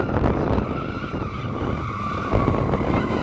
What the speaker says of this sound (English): I know they do drift because it can send quite a bit of power to the rear wheels